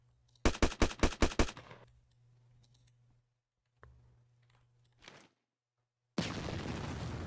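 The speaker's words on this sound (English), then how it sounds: "And those grenades just sound beautiful." Grenade blasts and rapid weapon fire in the Roblox ACS Engine 2.0 game: a quick burst of six sharp reports, a few scattered hits, then a loud sustained roaring blast near the end.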